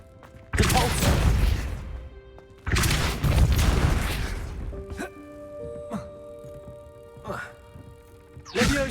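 A Depulso repelling spell cast in a Harry Potter video game: two loud, dense bursts of whooshing impact noise, each lasting about two seconds, followed by quieter sparkling chimes and short hits as the effect fades.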